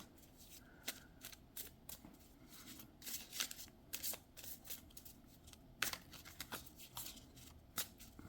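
Tarot cards shuffled by hand in a series of crisp, papery riffles and flutters, irregular bursts spread across the stretch, close and fairly quiet, with no speech.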